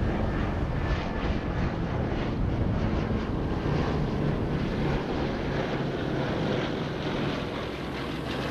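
A B-17 Flying Fortress bomber flies over Washington D.C., a steady, broad engine drone holding at an even loudness throughout, mixed with wind buffeting on the microphone.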